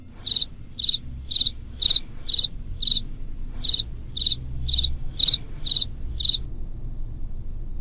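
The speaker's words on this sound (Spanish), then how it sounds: "un concierto de grillos y chicharras amenizaba ese momento familiar" Crickets and cicadas on a clear night, a regular series of sharp, bright chirp bursts about every half second, close and prominent over a low hum, with no talk.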